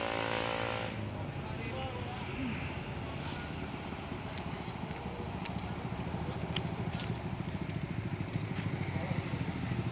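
A JRG tourist bus driving past on a road, its engine a continuous rumbling roar over steady traffic noise, with a few sharp clicks scattered throughout.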